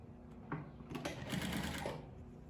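Sewing machine stitching a cargo pocket runs in a short close burst of rapid mechanical whirring, with a soft thump as it starts and faint room noise around it.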